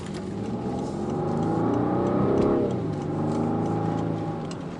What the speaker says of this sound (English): I need to take the Wraith up the Petrol Ped hill climb